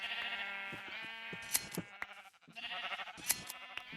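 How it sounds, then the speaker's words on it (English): Minecraft sheep in the Wii U edition bleat repeatedly in two clear bursts of wavering, nasal cries, fairly close and loud, with a short quiet gap between them and no talking. "Look at all these happy little sheep friends."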